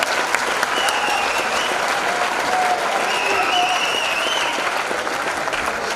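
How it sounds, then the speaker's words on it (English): A school audience at an academic hall of fame ceremony gives the inductees a steady, full round of clapping, loud and continuous throughout with faint crowd murmur and a whistle or cheer. "please join me in one more round of applause for our inductees"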